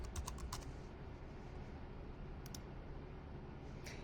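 Quick bursts of keystrokes on a computer keyboard as a folder name is typed, a short flurry at the start and brief taps later, faint over steady background hiss.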